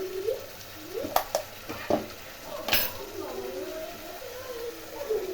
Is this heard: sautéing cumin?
yes